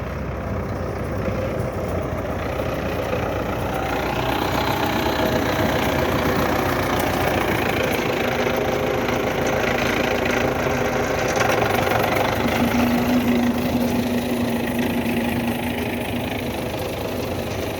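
A tractor engine idles steadily and continuously throughout, a low rumbling drone with a knocking, vibrating texture, close and fairly loud with no talk.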